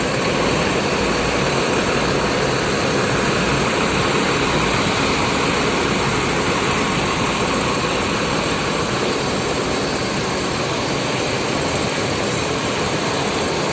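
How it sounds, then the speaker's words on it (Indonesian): A PT Rapi bus engine idles before departure, a dense low rumble that holds steady and loud throughout, with no voices over it. "mesinnya udah dihidupin. Sebentar lagi busnya berangkat ya."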